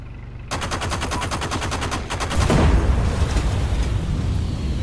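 Rapid automatic gunfire in the shooter game Heroes & Generals, a loud sustained burst of closely spaced shots followed by a heavier rumbling blast, close and without talk.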